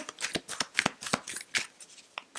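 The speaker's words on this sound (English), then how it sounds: "So giving these a shuffle, I will be waiting till the first card falls or flips." A deck of tarot cards is shuffled by hand, close and crisp, a quick run of riffling bursts and slaps in an uneven rhythm with no talking.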